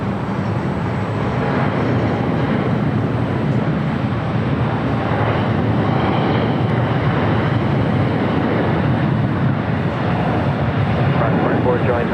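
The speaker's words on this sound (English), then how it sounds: "Dreamliner now rolling down 25 right." A Boeing 787 Dreamliner rolls down runway 25 right at LAX for takeoff, a loud, steady broadband engine roar that continues unbroken and fairly close, with talk heard over it.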